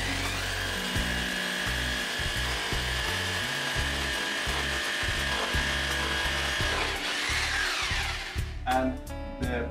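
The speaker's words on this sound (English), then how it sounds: "I will use a 14 millimeter drill bit" A power drill fitted with a 14 mm bit bores steadily and loudly for several seconds, its motor whine rising and falling with pressure and then slowing at the end, with no talk.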